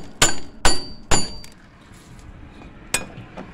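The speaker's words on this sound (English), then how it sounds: "whack that nut with the hammer" A hammer strikes a flywheel nut three times in quick succession with sharp ringing clanks, then a single later blow after a pause, removing the flywheel from a 224cc Predator engine.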